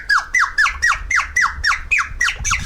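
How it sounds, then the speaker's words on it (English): A Chinese nightingale water whistle warbles in a rapid series of about nine bright, descending chirps with a watery trill, loud and close, each burst evenly spaced like birdsong. "It's a water whistle called the nightingale whistle."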